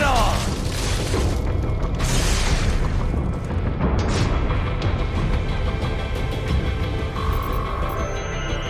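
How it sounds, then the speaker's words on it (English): Rocket-propelled grenade launched and detonating in a video game battle: a loud booming blast with rumbling debris and dense noise throughout, further bursts near the middle, under a continuous combat din. "Firing RPG!"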